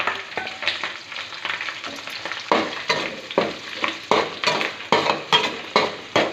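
Curry leaves, onion and garlic fry in hot oil for an aubergine dish. The sizzle is steady, and a spatula strikes and scrapes the pan in rhythmic strokes that grow more regular and insistent.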